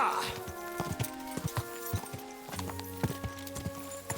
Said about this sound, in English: Is this your first time riding a horse, Jim?